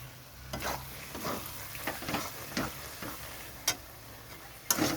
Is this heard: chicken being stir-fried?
yes